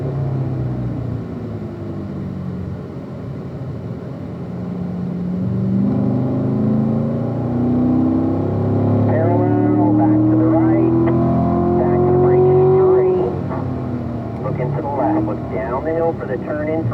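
A Corvette accelerates in 4th gear on a race track, its engine note climbing steadily as the revs build, then breaking off. A driving instructor talks over the engine throughout.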